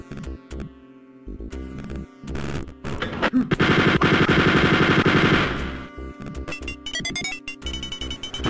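Rapid automatic gunfire in the video game Wolfenstein 3D Spear of Destiny, loud bursts of shots building into a sustained volley, then scattered single shots and game sounds.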